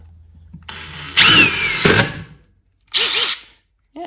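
A DeWalt DCF850 impact driver sinks a self-drilling deck screw: a rising whine that breaks into a loud rapid hammering burst, then a second short burst after a pause, close and loud with no talk.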